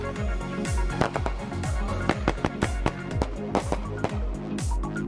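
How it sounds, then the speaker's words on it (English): Fourth of July fireworks go off in a rapid barrage of loud booms and crackling bursts, many in quick succession, with no talking. "That's fireworks."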